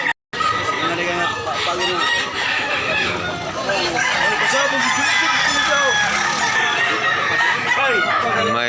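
Roosters crow and chickens cluck in a dense, loud chorus at a poultry market in Tabunok, Talisay, Cebu, with a voice speaking now and then beneath the birds.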